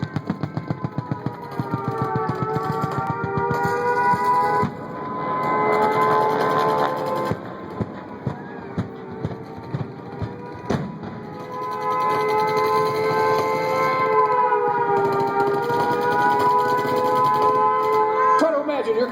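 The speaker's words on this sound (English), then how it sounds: "Hear the sirens just as they did that day." Wailing air raid sirens rise and fall continuously over a rumbling background at an air show's Pearl Harbor attack reenactment, with scattered sharp bangs and thuds punctuating the drone.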